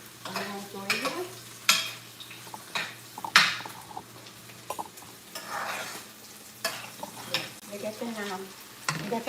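Onions frying in a pan for cassava dumplings with salt fish, a steady soft sizzle under repeated stirring scrapes and occasional utensil clatter against the pan, close by.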